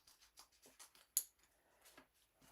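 Small paper cuts as scissors snip a tiny leaf branch from a sheet for a fall shadow box craft, a quiet series of soft snips with one sharper cut partway through.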